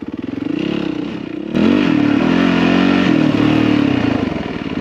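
Off-road motorcycle riding a rough trail at McCain Valley, its engine loud and close with steady revving and a throttle surge partway through, plus rattling clatter and scraping from the bumpy ground.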